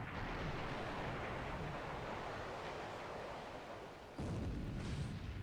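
Torpedo hits in a naval war video game set around Rabaul in 1941, a sustained roaring rumble of explosions and churning water, loud and continuous, with a sharp fresh burst near the end and no talk.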